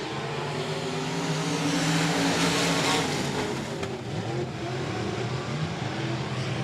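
Sport Mod race cars roar around the Heart O' Texas Speedway during a heat race, their engines a loud, steady drone with one car's pitch rising and falling as it passes.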